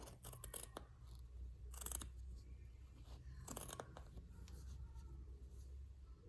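Scissors snipping through a fabric gusher pad, with a quick cluster of crisp cuts early on, then two louder crunching snips, close and quiet with no talking.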